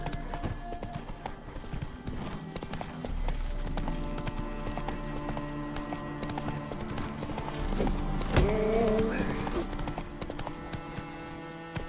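Hooves clip-clop at a steady galloping rhythm as a horse runs in The Witcher 3, moderately loud, with a short louder burst partway through.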